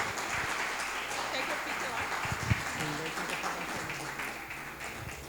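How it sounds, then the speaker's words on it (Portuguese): A church congregation at a Sunday evening service applauds steadily for several seconds, broad clapping blended with voices and some low thumps. "aplaudindo ao Senhor"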